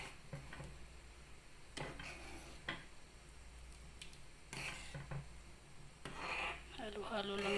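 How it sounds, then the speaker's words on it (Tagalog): A spoon stirs sticky rice (malagkit) for champorado in a pot to keep it from sticking and burning, giving soft scraping rubs and occasional clinks of utensil on metal, fairly quiet, with some talk toward the end. "Halo-halo lang natin para hindi dumikit. Para hindi masunog sa baba."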